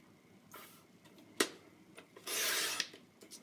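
Paper for a 12x12 scrapbook page layout is cut with a trimmer, giving a sharp click followed by a longer, brighter scraping slide of the blade, quiet and close with no speech.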